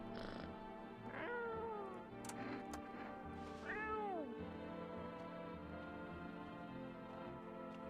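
A video-game cat meows twice, drawn-out and moderately close, over a steady low hum of background music with no talking.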